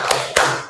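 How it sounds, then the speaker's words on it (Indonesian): A school class performs a rhythmic group-clap ice-breaker chant, two sharp, close claps in quick succession. "Kita ice breaking-nya tepuk semangat."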